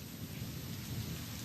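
Steady rain falls during a thunderstorm, a faint, constant hiss of rain with a low thunder rumble beneath it and no voices.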